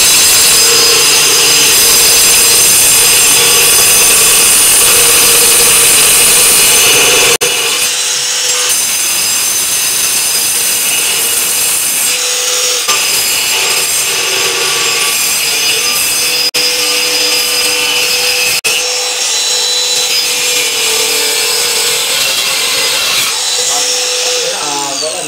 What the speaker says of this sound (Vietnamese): tôi sẽ sử dụng một cái lưỡi cắt gỗ chuyên dụng dành cho mày mày góc để cắt thử gỗ cố định